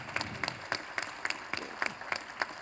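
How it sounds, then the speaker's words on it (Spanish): An audience at a book fair presentation applauds, a soft wash of clapping with one nearby pair of hands striking in a steady, regular beat above it, fairly faint overall. "Acá un aplauso para Eyal"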